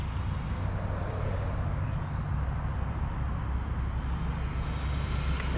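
An Arrma Senton 4x4 Mega RC race truck drives with a continuous whirring motor whine and rough rumble, steady and at moderate distance, with no talk.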